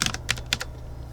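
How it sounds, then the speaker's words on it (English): Short burst of typing on a computer keyboard, several quick close keystrokes clustered in the first half, then fading to a quiet room hum. "go to setup, and I'll type in support settings."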